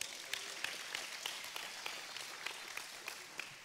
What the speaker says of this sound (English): Can y'all give Noah a round of applause?